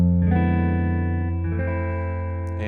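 Jazz guitar chord voicings for a chord melody of a song, plucked with the thumb, giving soft, rounded sustained chords that ring alone, with a new chord struck midway and another near the end.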